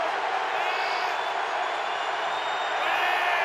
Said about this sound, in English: A raucous crowd at Heinz Field tonight